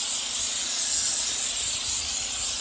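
A steady, continuous hiss of spray paint from a nearby can, loud and even for a few seconds with no pauses.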